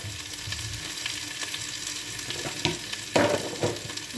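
Spices with black pepper powder fry in a pan for Chinese-style aloo gobhi, a continuous sizzle under repeated spoon stirs and scrapes that grow sharper near the end, close up and without voices.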